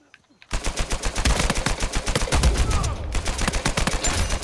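Rapid automatic gunfire in an Uncharted 4 multiplayer match bursts in suddenly after a brief quiet, a dense, loud rattle of shots continuing with only a short break.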